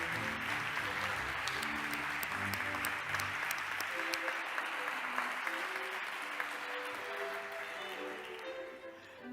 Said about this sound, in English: let's make a big, big applause for all 9 winners from the category Conservation